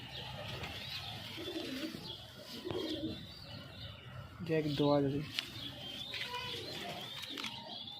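Domestic pigeons coo softly in a home loft, with one clear, close rolling coo midway among faint chirps, under and between people talking.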